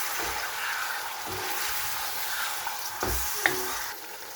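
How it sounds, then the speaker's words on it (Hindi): Chicken with chopped tomato and green chilli frying in a pot, a steady soft sizzle with a few louder stirring scrapes and clanks, no voices. "तो अब जितनी देर में हमारा चिकन भुन रहा है"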